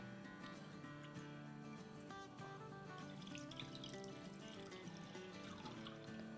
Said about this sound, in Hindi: और अब इसमें हम डालेंगे 3 कप दूध